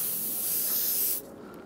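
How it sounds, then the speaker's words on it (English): Spray of paint during a face-painting session, a steady close hiss lasting about a second before cutting off, leaving quieter background. "We give a spray around it, and we'll give one here."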